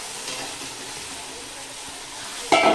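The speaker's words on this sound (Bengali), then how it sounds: "এখন এই ভাজা চিকেনগুলো দিয়ে দেবো।" Fried chicken pieces dropped into oily, well-cooked masala in a pan for chicken kosha, a steady low sizzle followed by a sudden louder crackling burst as the meat hits the hot oil.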